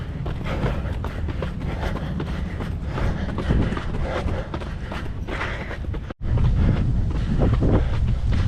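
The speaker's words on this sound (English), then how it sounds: "Wind is picking up in our face." Strong wind buffets the microphone of a runner during an outdoor road run, a loud, rough, continuous rumble with a brief dropout before the roar resumes.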